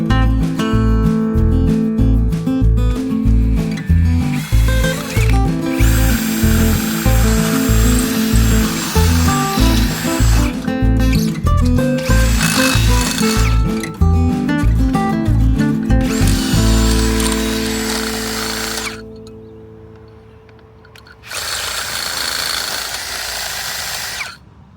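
A power drill whirs loudly and close, with rhythmic chugging pulses as it bites in, then spins down, pauses, and briefly revs again.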